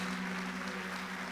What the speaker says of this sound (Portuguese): Você quer aplaudir a palavra? Pode aplaudir.